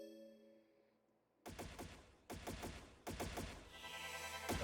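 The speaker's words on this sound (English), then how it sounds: "That would be gunfire." Gunfire in the video game Trails in the Sky SC: after a quiet musical lead-in, several loud bursts of rapid shots in quick rhythmic volleys, separated by short pauses, with music continuing underneath.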